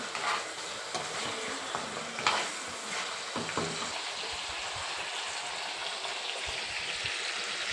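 Goat trotters fry in a pan for Telangana paya curry, a dense rain-like sizzle running steadily throughout, with a few stirring scrapes early on.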